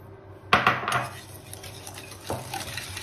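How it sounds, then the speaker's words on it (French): A whisk clatters sharply against a bowl, then settles into brisk stirring as egg yolks are beaten with sugar for a praline tiramisu, with a second louder scrape near the end. "On remue bien les jaunes avec le sucre."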